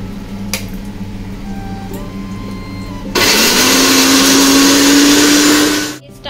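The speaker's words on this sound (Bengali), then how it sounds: "আর আমি এদিকে মিক্সিটাতে ওই মশলাটাকে গ্রাইন্ড করবো এখানে" An electric mixer grinder grinds spice masala paste for a paneer dish after a few seconds of quiet kitchen clatter. It then switches on abruptly with a loud, steady whirring roar that holds for about three seconds before cutting off.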